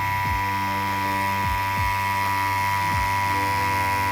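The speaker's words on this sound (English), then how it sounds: "if you keep the machine parallel the entire time, the needles enter the skin evenly and the ink is deposited cleanly all the way around." Steady, loud buzz of a tattoo machine running at around 8 volts while lining solid lines on real skin, a constant mechanical drone with small pitch dips as the needle works, no talk.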